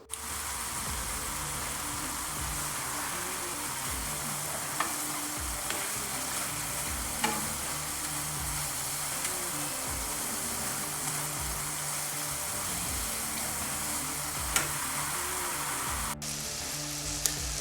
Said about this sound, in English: We'll get that ground beef cooked.